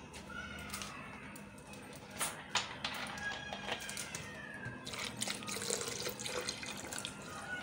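7-Up soda poured into a blender with lemon juice for a mint margarita, a faint continuous liquid stream and fizzing splash running throughout the clip, close and quiet.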